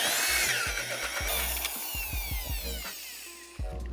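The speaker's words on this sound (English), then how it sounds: "using this demolition bit to drill through the wall" Rented heavy drill with a demolition bit boring through a boat wall, rapid pulsing thuds and grinding with high scraping squeals, close and fairly loud throughout.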